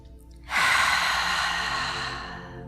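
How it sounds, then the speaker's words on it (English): Ujjayi breathing during restorative yoga, a single long, audible oceanic exhalation through the throat, close and breathy, fading gently as it trails off. "check in to hear that beautiful Ujjayi breath as well"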